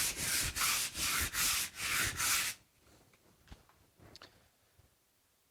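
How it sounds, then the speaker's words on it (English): Sandpaper rubs back and forth on a wooden mast coated with cured penetrating epoxy, working toward a 220 grit finish: six even, close strokes in a steady rhythm, then near silence with a few faint taps. "I'm going to sand it to a 220 grit finish"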